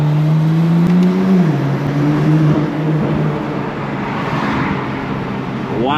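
A tuned BMW F80 M3 drives with its exhaust valves open, a loud, close engine drone that climbs briefly and then settles into a steady cruising hum, with road noise beneath and a short pitch rise at the end.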